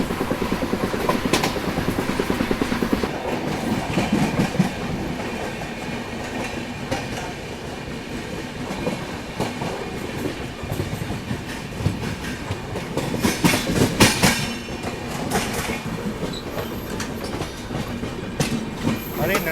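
The Nanda Devi Express passes near Ghaziabad Junction, a loud, close rumble of rolling railcars with rhythmic wheel clatter and occasional squeals throughout, with no talking.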